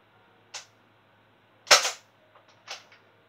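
Gunshots from target practice ring out alone against a quiet background, three sharp cracks with the middle one loudest, followed by a few fainter clicks.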